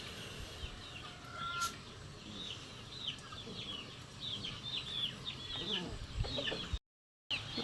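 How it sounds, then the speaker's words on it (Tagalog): Chickens being fed at a fish pond farm cluck in quick, repeated bursts throughout, moderately close, over a steady outdoor background, with a brief drop to silence near the end. "Saka po magpapakain siya ng mga manok."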